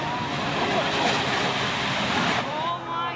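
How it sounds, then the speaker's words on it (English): Jet-powered Lincoln Navigator SUV racing in a drag race at an air show at Otis Air Force Base, a loud, broad roaring jet blast that swells and then fades slightly as it passes. "driving his jet-powered SUV at an air show at Otis Air Force Base"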